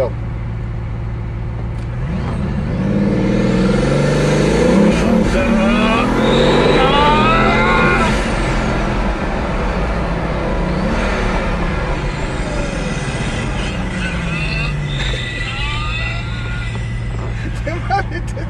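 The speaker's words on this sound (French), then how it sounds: "Maintenant tu vas voir un départ arrêté." A powerful Bugatti engine of 1001 horsepower roars and revs hard as it pulls away from a standing start, rising in pitch through the gears, loud and close from inside the car.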